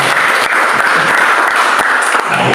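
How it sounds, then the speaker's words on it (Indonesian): A church congregation claps loudly at a worship service in an apartment prayer gathering, dense continuous applause with a few sharper claps standing out, close and steady throughout. "Berikan tepuk tangan."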